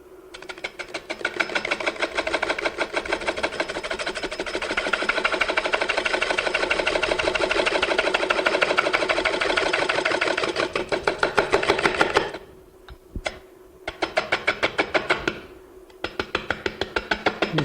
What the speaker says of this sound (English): So what I'm using is simply my skew, and I'm gonna cut it.